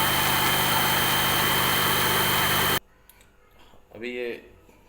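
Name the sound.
blender grinding strawberries for juice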